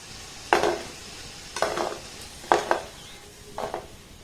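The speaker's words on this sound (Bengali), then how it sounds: "এই পর্যায়ে কিন্তু আমি মিষ্টিগুলোকে উঠিয়ে নেব।" Gulab jamun made from flour are scooped out of frying oil, four separate scraping, clinking lifts about a second apart over a faint background sizzle, close and unaccompanied by talk.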